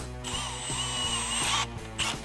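A steady whirring power drill with a 1/4-inch bit runs close up under a golf cart, with a continuous high whine, briefly dropping out and restarting near the end.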